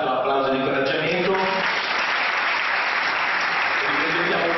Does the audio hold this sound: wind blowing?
no